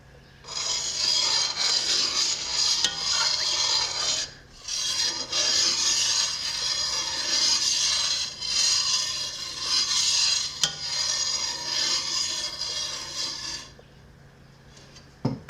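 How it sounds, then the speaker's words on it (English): A spoon stirs a citric acid and water mixture in a pot while making mozzarella, producing a close, continuous raspy scraping that pauses briefly once and then fades out near the end, with no talking. "now I have to add the citric acid water mixture, and it says just stir that up for like 30 seconds."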